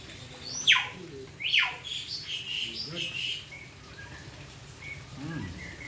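Birds chirp with a few sharp descending calls and lighter tweets over a steady background of falling rain.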